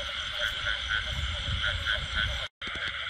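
Frogs croak at night in the Mekong Delta countryside of southern Vietnam, a dense chorus of repeated calls overlapping steadily throughout. The chorus drops out for a brief gap near the end, then resumes.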